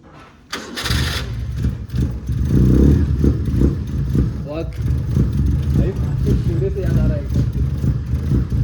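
A motorcycle engine revs and fires heavily at close range outside a restaurant near Lonavala, its deep rumbling exhaust steady throughout, with voices talking over it.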